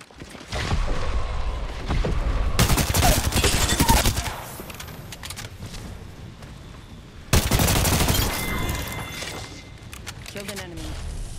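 Video game gunfire in two loud automatic bursts of several seconds each, separated by quieter stretches with a voice speaking, followed by scattered smaller shots.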